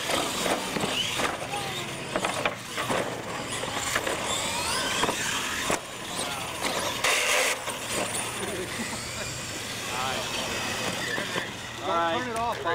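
R/C monster trucks drag racing at a Trigger King event, their electric motors whining and revving in bursts up close, with people talking throughout.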